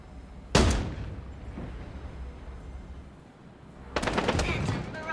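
Gunfire barrage in the 5v5 paper shooter video game Strinova: two loud bursts of rapid automatic fire, one at the start and a longer one near the end, separated by a quieter stretch of game ambience.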